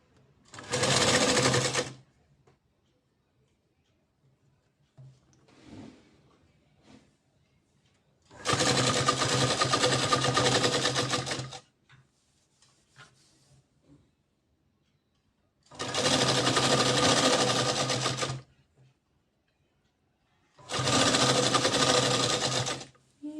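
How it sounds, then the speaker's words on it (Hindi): An electric sewing machine stitches a trouser bottom frill with a half-inch seam, running loud in four separate bursts of a few seconds each, separated by quiet handling of the fabric. "इसे आधे इंच के फासले पे सिलाई लगा लेंगे।"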